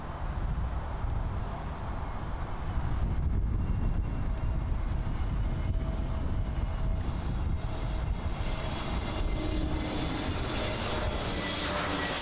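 An Avianca Airbus A320neo in new livery arriving at Miami International Airport from Medellin, its engines a steady broadband roar that holds loud and even throughout, with a faint whine rising toward the end.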